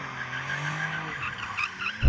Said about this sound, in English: We've got to warm up our tyres.